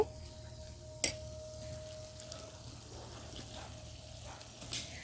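Puti fish with tomato sautéed on a clay stove makes a soft, low sizzle throughout, with a sharp knock early on and a few light utensil scrapes.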